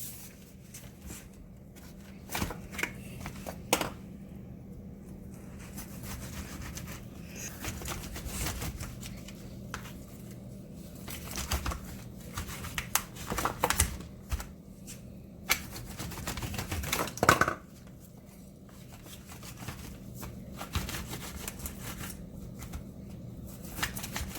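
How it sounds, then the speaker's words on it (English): Knife slicing raw salmon on a cutting board for honey glazed cilantro lime salmon, heard as repeated soft taps and brushing cuts in an irregular rhythm, close and fairly quiet, with no talking. "Now I'm gonna just cut up my salmon, slice it up."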